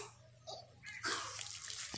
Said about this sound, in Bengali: এর মধ্যে অল্প আমি একটু জল দিয়ে দেব।